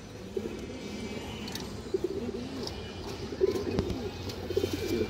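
Pigeons coo softly in repeated low, throaty murmurs close by, with faint background rustling and noise.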